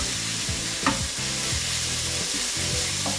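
Spring onion frying in hot oil in a pan for Taiwanese soy-braised pork chop, a steady bright sizzle with a spatula scraping and stirring in short rhythmic strokes.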